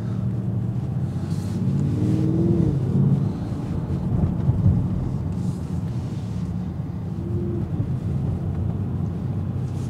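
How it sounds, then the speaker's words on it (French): Mercedes GLE 63S AMG 2020 with its V8 biturbo engine, heard while driving: a steady, deep low rumble of exhaust with a couple of brief rising revs, loud and close, no talk over it. "La sonorité, ça a l'air pas mal, on l'entend. Le V8 biturbo."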